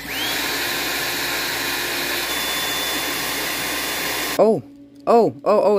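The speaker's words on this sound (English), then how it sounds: "I'll just do some more drilling" A steady high-pitched power drill whines continuously for several seconds while taking apart a diecast 1932 Ford Street Rod model car, then cuts off, followed by a few short bursts of talking.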